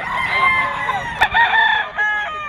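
A rooster crows loudly and close by at a busy Bocaue pet market in Bulacan, its drawn-out call ringing over constant crowd murmur and other fowl.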